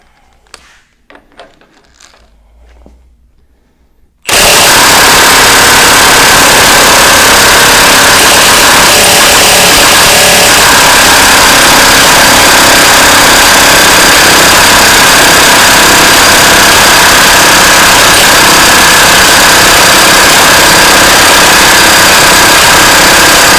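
A Milwaukee 2767 half-inch battery impact wrench kicks in after a few quiet seconds and hammers a nut in one continuous, very loud, dense rattling burst that runs close up and unbroken to the end.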